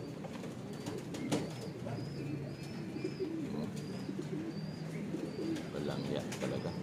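Racing pigeons back at the loft after their arrival, soft low cooing and a few faint flutters over a quiet outdoor background, with someone talking now and then.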